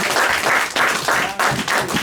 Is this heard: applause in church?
yes